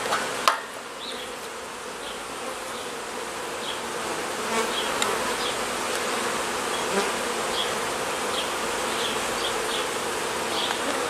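Honey bees from a recently installed package colony hum steadily at close range around their hive as they feed on honey, a dense continuous buzz with individual bees passing near now and then and a single sharp knock near the start.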